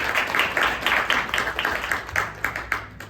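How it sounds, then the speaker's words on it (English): Audience at a startup pitch-battle event gives a short round of clapping for the organizing team, a few seconds of fairly sparse, rhythmic claps with a little background chatter. "give them a little clap"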